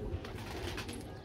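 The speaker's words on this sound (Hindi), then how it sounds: "ये कबूतर है" An orange-coloured pigeon gives soft, low cooing close by, a brief murmuring call over faint background noise.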